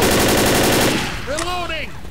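Loud, rapid automatic gunfire in the video game Left 4 Dead, a dense sustained burst that stops abruptly, followed by a brief voice.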